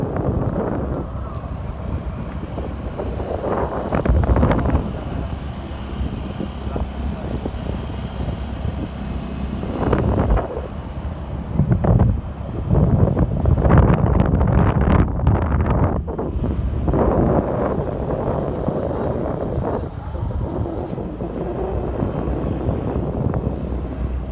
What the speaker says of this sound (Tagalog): Ganda ng panahon. Kaya mahangin.